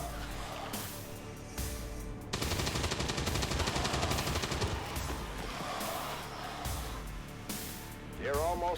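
Turret gunfire in XCOM: War of the Chosen rattles in long rapid automatic bursts, loud and sustained, with game effects and voices around it.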